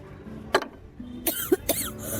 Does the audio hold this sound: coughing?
yes